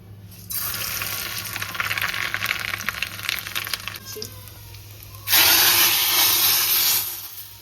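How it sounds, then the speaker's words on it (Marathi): Hot tempering (phodni) sizzling loudly as it is poured into cooked dal in a home kitchen: a steady broadband hiss running for several seconds, fading, then a second, louder burst of sizzling. "आता वरण मी इथे वरण घालून घेतले आणि फोडणी दिली"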